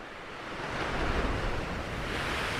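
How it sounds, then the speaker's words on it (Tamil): Sea waves breaking on the shore beside a seaside Hindu temple lined with coconut palms, a steady roaring wash of surf with wind noise, close and continuous with no talking. "இங்கேருந்து அந்த அலை அடிக்கிறத பாருங்கள்"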